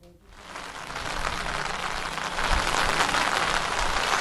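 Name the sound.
heavy monsoon rain in Ahmedabad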